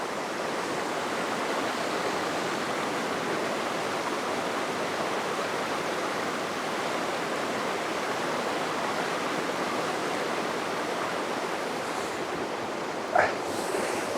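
A steady, broadband rush of falling water fills the scene continuously, loud and unbroken, with a faint brief chirp near the end.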